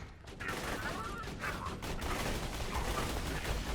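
Stinkpot assault rifle from Borderlands 2 fires grenades in rapid dense bursts, a continuous rumbling fusillade of game gunfire and explosions with a faint voice underneath.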